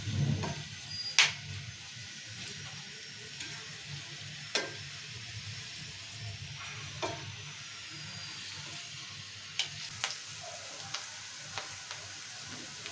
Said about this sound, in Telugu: ఉల్లిగడ్డలు మంచిగా వేయించుకుందాము నూనెలా